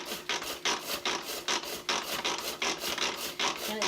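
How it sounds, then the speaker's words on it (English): A Pampered Chef manual food processor grinds food with close, steady rasping strokes that repeat about twice a second, with no other sound. "So I'm just going to grind these up."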